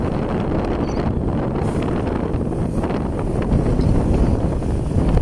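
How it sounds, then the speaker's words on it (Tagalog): Strong wind rushing past a moving vehicle buffets and roars steadily against the microphone, a loud rushing noise with no talk. "naririnig nyo na ngayon yung hangin"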